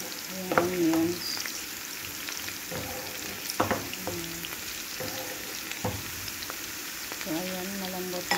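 Onions frying in a pan, a steady sizzle close up punctuated by sharp spatula scrapes and clinks of stirring, with a voice speaking briefly in the background.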